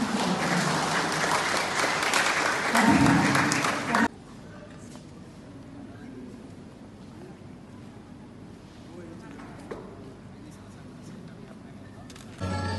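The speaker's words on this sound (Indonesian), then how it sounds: "berikan tepuk tangan sekali lagi" Audience applause in an indoor hall during an official visit to a vocational center for people with disabilities, a loud dense burst of clapping for about four seconds that stops abruptly and leaves quiet room tone.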